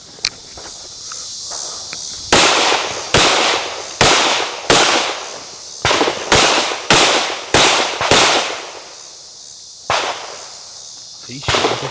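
Gunshots ring out at an outdoor tactical shooting session, a series of about ten loud, sharp cracks fired in an uneven cadence with short pauses between them.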